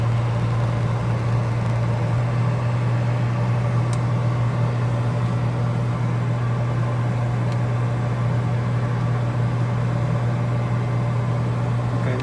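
A fume exhaust fan runs during hot air rework on electronics, a loud, constant low hum with a steady airy whoosh, unchanging throughout with no speech.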